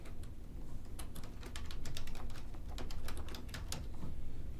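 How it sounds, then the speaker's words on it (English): Quick bursts of typing on a computer keyboard, crisp individual key clicks in irregular clusters, close and fairly quiet, with no voice during the keystrokes. "I'm going to type in Crane and Associates"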